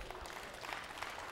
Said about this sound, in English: Get Lord a big hand clap for that.